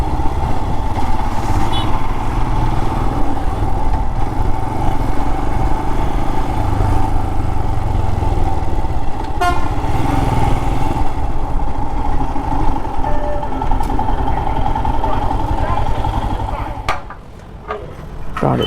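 Royal Enfield Himalayan 411 motorcycle engine running steadily and loud while climbing a steep off-road mound, a continuous close drone that eases off briefly near the end.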